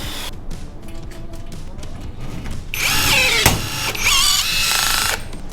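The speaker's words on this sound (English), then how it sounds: "I'm gonna go ahead and drill all these holes for the rivets" A power drill bores rivet holes through a jon boat's deck during a bass boat conversion, with a quieter whirring start, then a loud, harsh run lasting a few seconds with brief pauses.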